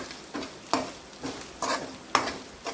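Masala spices and chili powder frying in hot oil, with a soft steady sizzle under repeated scraping strokes of a spoon stirring in a pan, close and moderately quiet.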